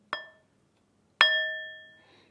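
A metal singing bowl struck twice while its sides are held, producing a short damped clink, then a second ringing strike with a few clear tones that fade over about a second, with no talking.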